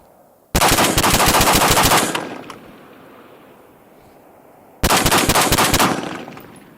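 Two rapid bursts of semi-automatic shots from a Radical Defense MK1 Mod 1 14.5-inch patrol rifle, loud and close, the first lasting about a second and a half, the second starting a few seconds later, with outdoor ambience in between.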